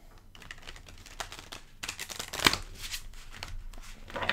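A tarot deck is shuffled in quiet bursts of riffling card flicks and soft slaps, faint at first and then busier and louder through the middle, with irregular pauses.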